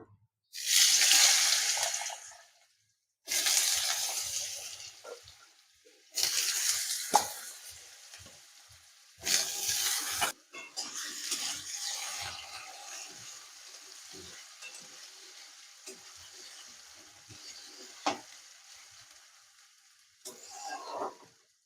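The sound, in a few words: diced potato frying in hot oil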